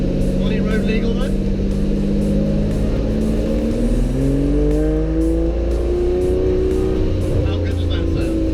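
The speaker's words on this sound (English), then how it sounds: "Through town in a racing car. It's quite loud." An Aston Martin GT12 racing car drives through town, its engine a loud, close, steady drone with shifting pitch as it pulls along, with talk over it at times.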